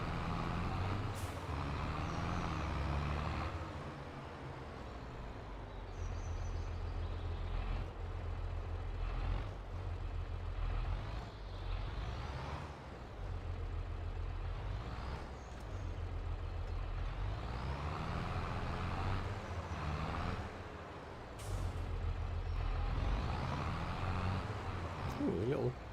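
Lorry in the Farming Simulator 22 video game, a continuous low engine drone with hissing air-brake bursts and shifting mechanical tones, with someone talking over it.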